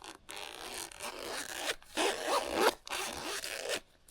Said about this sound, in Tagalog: Marinig yung zipper niya.